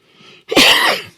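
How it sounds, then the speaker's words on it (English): A single loud, rough cough erupts up close after a brief faint breath, rasping for about half a second before fading. "I told you I couldn't guarantee you wouldn't get at least one cough"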